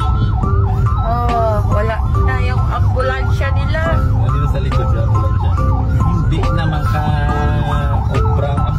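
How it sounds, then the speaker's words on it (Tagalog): An ambulance siren on a roadside in the Philippines, rising and falling in wailing sweeps that carry loudly through the whole stretch, with voices and traffic noise underneath. "Dito sa likod siya, ambulansya."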